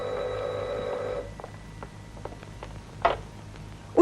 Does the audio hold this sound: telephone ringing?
yes